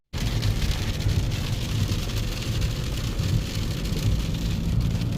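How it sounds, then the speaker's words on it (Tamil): Heavy rain pours down on a long road journey, a dense, constant hiss of falling water starting abruptly and holding steady throughout, loud and close, with no talking. "மழை பெய்யுது நல்ல மழை."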